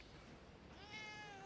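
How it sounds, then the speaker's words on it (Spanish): A cat gives a single drawn-out meow, quiet and nearby, rising out of faint background hiss near the end of the moment. "Miau."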